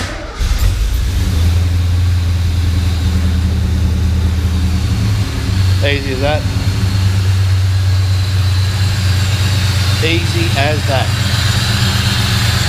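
A Ford Fairmont XC GXL engine idles steadily with a low, even hum throughout, with no tapping noise, while someone speaks briefly twice over it.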